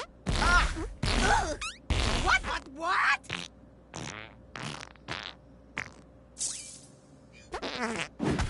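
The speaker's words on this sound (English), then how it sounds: "Farting for you is like tapping a button." A string of loud, close fart noises comes in rapid bursts of varying length, some long and sputtering, some short and sharp, with brief voices mixed among them during a live game broadcast.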